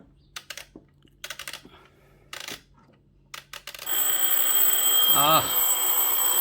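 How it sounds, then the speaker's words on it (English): Several sharp button clicks come in short bursts, then a Citizen table clock alarm starts ringing: a continuous shrill electronic tone, close and loud. "Let us see how alarm sounds."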